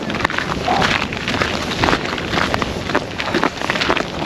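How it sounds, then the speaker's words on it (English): Strong, cold wind gusts over Iceland's black sand beach near Vík, a steady roaring rush of air buffeting the microphone with continuous loud broadband noise and no voices. "Really cold and really windy up here."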